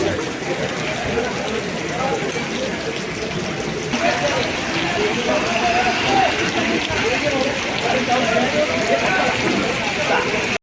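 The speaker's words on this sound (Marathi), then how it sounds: "पाऊस तर काय थांबायचं नाव घेतलं" Heavy rain makes a continuous rushing, splashing wash of water, with people talking faintly beneath it.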